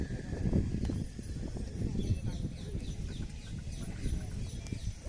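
A pair of bulls walks on a farm, their hooves giving faint, irregular clopping beneath a voice, with birds and chickens faintly in the background.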